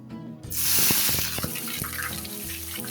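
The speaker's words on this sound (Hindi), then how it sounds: "अब इसके अंदर हम डाल देंगे प्याज" Chopped onions dropped into hot oil in a pot for aloo palak, a sudden loud sizzle that bursts in and then holds as a steady crackling fry alone.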